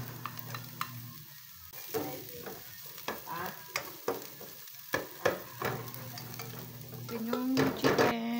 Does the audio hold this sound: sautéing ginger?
yes